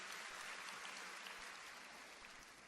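Church congregation applauding together, a faint, steady wash of many hands clapping, heard from a distance and holding level throughout.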